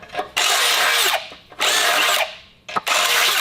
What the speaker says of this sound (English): I'm gonna run a drill bit through the other side